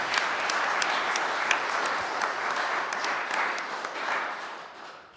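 An audience applauds warmly for Mr. James, the proprietor of the Jazz Up Front club, at a jazz history event. The clapping is steady and sustained and fills the room for about five seconds, with no voices over it.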